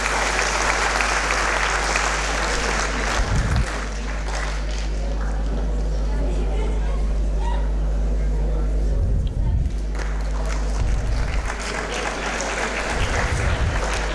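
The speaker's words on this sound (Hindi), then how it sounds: "तो एक बार जोरदार तालियां बननी चाहिए" An audience claps steadily for guests at the opening ceremony of a Sanskrit film festival, a sustained broad wash of applause filling the hall, with a low steady hum and a few brief thumps beneath.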